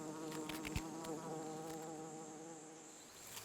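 Bees drone at a wild hive built against a huge tropical anthill, a close, steady layered buzzing with a few louder passes of individual insects and no voices.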